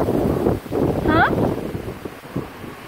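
Strong wind at a playground buffets the microphone in a steady, rough rumble. There is a brief high squeak partway through, and the gusts rise and fall with no clear words.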